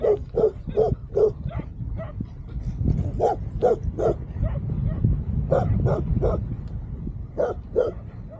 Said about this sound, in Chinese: 你们家狗咬我轮胎